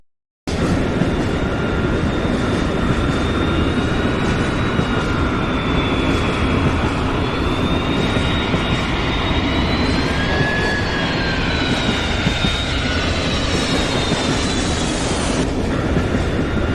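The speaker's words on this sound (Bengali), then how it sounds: "ওই দেখো দেখো বিমান উঠতেছে।" Cartoon sound effect of an airplane taking off: a loud, steady roar with rising whining tones that runs throughout and cuts off near the end, with no talking.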